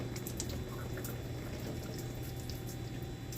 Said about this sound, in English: We'll loosen that drain plug and let it bleed out.